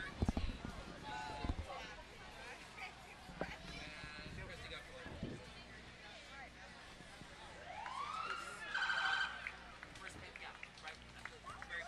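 A Squad Engine 51 fire truck in a parade sounds its siren, a rising wail that swells loudly near the end over crowd chatter and nearby voices talking.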